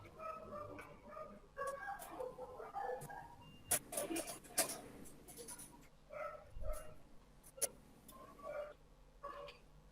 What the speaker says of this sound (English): Where are the dogs barking?